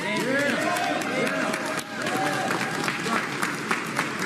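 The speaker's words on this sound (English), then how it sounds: "Damn, we got a applause break, too." Audience applause with scattered cheering, loud and continuous over the whole stretch, heard alongside talk from a live political event.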